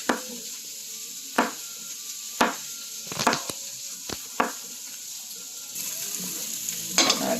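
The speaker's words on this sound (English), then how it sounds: "right now I'm just slicing the mushrooms" Knife cutting through mushrooms on a board in a home kitchen, a few separate sharp cuts spaced irregularly, close and moderately loud, alone without talk.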